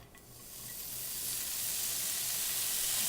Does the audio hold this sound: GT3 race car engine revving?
no